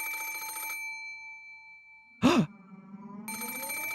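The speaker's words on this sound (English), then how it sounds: "There was a phone on the bedside table across from the one with the doll, and it was ringing noisily." A telephone rings in the Umineko When They Cry visual novel game. A single short, sharp ring bursts out between passages of soft, steady background music.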